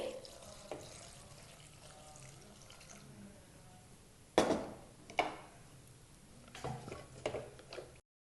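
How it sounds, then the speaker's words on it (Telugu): Water splashes and trickles into a pot of chopped brinjal and broad bean pieces for a curry, in a few short pours, quiet and close against a faint kitchen background. "ఈ రెండు ఉడకడానికి సరిపడా నీళ్లు పోయాలి"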